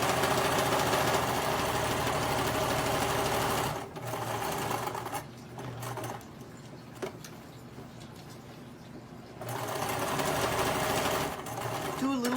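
Close and loud, a sewing machine stitches a fabric book bag, then slows into a quieter stretch and picks back up to full speed. A voice talks faintly underneath.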